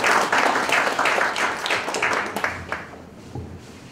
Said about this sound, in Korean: 뜨거운 박수로 맞이하시기 바랍니다